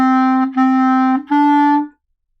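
A clarinet plays the Hot Cross Buns phrase as three sustained, bright tones, each briefly separated by a tongued break, loud and close, then silence.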